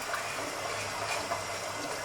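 Water being poured into a pot of dal cooking with mutton, heard as a steady, continuous splashing gush at close range with no talking.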